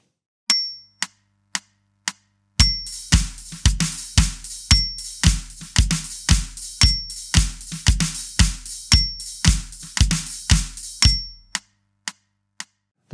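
Drum kit bridge groove at the full 114 BPM tempo, opening with a few sparse clicks before a dense, loud run of snare and kick hits with cymbal ring, then trailing clicks.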